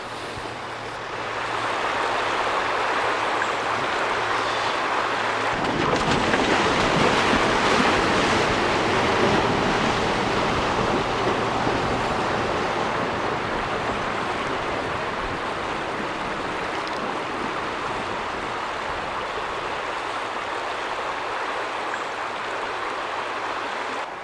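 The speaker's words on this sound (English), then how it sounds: "The Mahindra is crossing another river." A Mahindra vehicle fording a river on a rough outback track, a loud steady rush of churning water and engine noise that runs throughout with no break, no voices.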